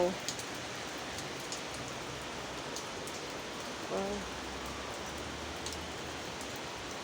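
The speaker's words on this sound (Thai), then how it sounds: "ฝนตกแดดออก" Rain falls steadily while the sun shines, a soft, even hiss of drops on surfaces that holds constant throughout, with a faint voice briefly in the background.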